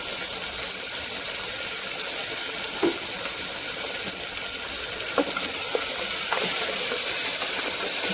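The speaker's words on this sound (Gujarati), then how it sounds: "ડુંગળી અને મરચાં સારા એવા તેલમાં સંતળાય" Onion, chilli and capsicum sauté in plenty of oil in a pan with a dense, even sizzle and hiss, a few soft knocks of stirring near the end, close up and without voices.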